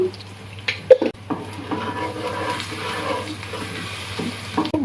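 Chopped onion and panch phoron fry in hot oil, a steady close sizzle with scattered clinks of a utensil against the pan, cooked alongside prawns.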